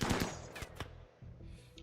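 Automated defence turrets in a video game fire on incoming raiders, giving a burst of rapid, loud gunfire shots with a few sharp individual bangs over about two seconds, no talking.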